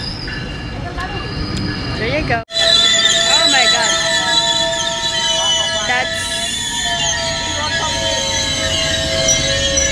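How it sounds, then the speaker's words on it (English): A GO commuter train in Canada rumbles along with squealing wheels and shifting metallic tones, loud and close, while people talk over it. "that's the GO train here in Canada"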